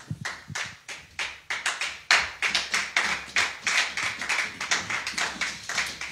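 Congregation at a church service clapping in rhythm, with a few scattered claps at first that quickly become steady, fast, loud unison applause.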